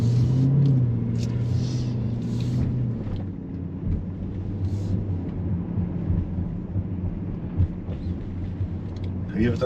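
A Lamborghini Urus pulls away during a driving test, its low engine rumble swelling at first and then settling into a steady drone from inside the cabin, with brief voices over it.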